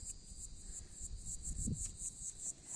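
Grasshoppers and insects chirping in an okra field outdoors, a steady high-pitched pulsing trill repeating throughout, with a brief low thump partway through.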